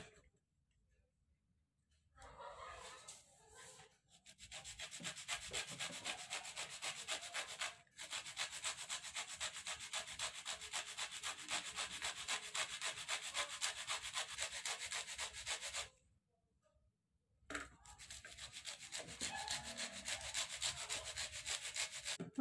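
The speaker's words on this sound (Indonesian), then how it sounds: "Kita akan parut untuk ini," Lime peel is grated on a grater in long, steady scraping passes, close and even, broken by a few short pauses between strokes.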